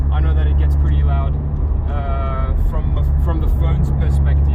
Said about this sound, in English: I'm on the highway now, approaching 100 kilometers an hour, so I'll try to raise my voice. I know that it gets pretty loud